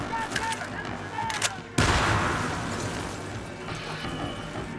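Gunfire in a Battlefield 3 match: rapid, loud shots and a sharp blast midway, followed by a lingering roar of combat noise.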